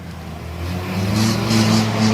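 Racing cars on the oval at Bovingdon Raceway, their engines droning and rising in pitch as they pass, a loud sustained roar building over two seconds.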